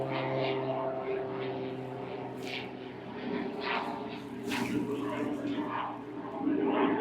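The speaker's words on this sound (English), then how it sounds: "Jeez, that's a loud plane." A loud airplane passes overhead above a dry garden, making a steady, broad roar that swells and ebbs slightly, with a person talking over it throughout.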